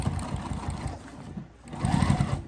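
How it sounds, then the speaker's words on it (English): A sewing machine top stitches along the edge of a crossbody bag, running in close bursts that slow briefly in the middle before picking up again. "I'm just top stitching right along the edge"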